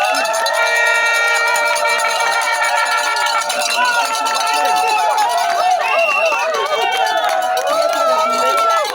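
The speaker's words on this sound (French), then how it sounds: "de saluer toute l'assistance sous vos acclamations" Wedding guests at a civil wedding cheer and acclaim the groom, a loud, continuous crowd din with ringing percussion and voices layered throughout, a festive hubbub of clapping, cries and music.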